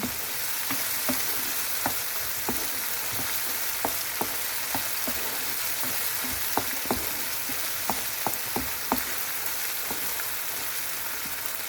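Meat sizzles in a pan over very low heat as the gravy dries off, a soft steady hiss with faint crackles and stirring taps scattered throughout and no talking.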